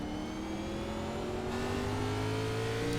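Onboard sound from the number 8 race car at Martinsville: a steady, droning engine note with gradually rising pitch, loud and continuous, with no talking.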